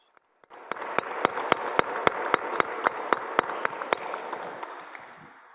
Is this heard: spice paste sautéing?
no